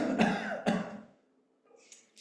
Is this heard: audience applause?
no